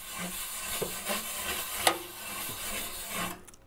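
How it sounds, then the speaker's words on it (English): A stiff long-handled Ooni brush scrubs across an Ooni Koda 16 pizza stone in short, rasping strokes, close and fairly quiet, with a few sharper scrapes. "I use the Ooni Koda long-handled brush"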